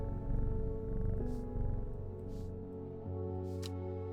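Hellebore, a cat in the game Strange Horticulture, purrs as he is petted: a low, steady, rumbling purr layered over soft sustained background tones.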